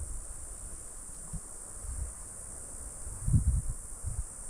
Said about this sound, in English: That's insects.